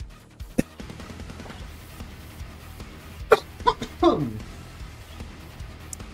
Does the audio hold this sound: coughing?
yes